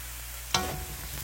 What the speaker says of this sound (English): Saute your garlic and your onions for a few seconds.